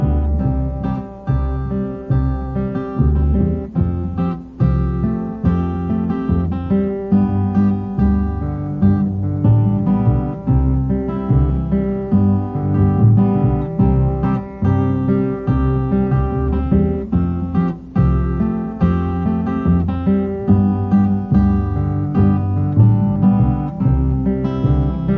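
A musician imitates a train on an instrument within an Americana song about waiting at a station for a midnight train, a sustained rhythmic chugging with pitched tones held steadily throughout, close and full, with no talking.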